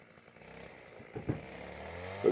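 Chainsaw cutting firewood logs, a faint, steady motor whine that rises in intensity near the end as the chain bites.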